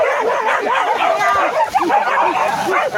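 Dogs bark and yip rapidly during a wild boar hunt in West Sumatra, a dense run of close, loud barks with whimpering, while people talk.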